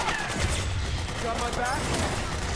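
Dense, continuous gunfire in Metal Gear Solid 4, with rapid overlapping shots and bursts at a steady loudness. Speech can be heard under the shooting.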